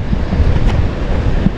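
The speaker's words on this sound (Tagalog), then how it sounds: "Kasi nga po ay mahangin." Steady wind blows across the microphone in a hot, breezy outdoor spot, a continuous rough rumble with gusty surges and no voices.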